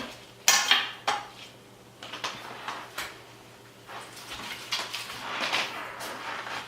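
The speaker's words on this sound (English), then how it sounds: "So just slice the bottom off and then slice it into 3" A knife slices through a vegetable on a cutting board for a stir fry, giving a few sharp separate chops and clatters of kitchenware in a quiet kitchen, with no talking.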